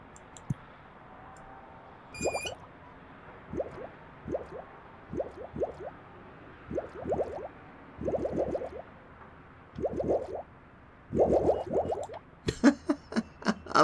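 Water placement sounds from the building game Project Highrise come as a series of quick wet squishing, plopping clicks, some in tight clusters, repeating irregularly over a faint background hum.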